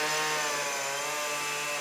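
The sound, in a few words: chainsaw carving a wooden log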